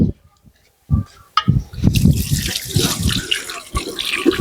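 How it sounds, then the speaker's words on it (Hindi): Hands washed under a running tap without soap: quiet at first, then water gushes on and splashes steadily over rubbing hands in a sink, close and loud. "तो बिना साबुन हाथ कैसे धोना है वो देखिए"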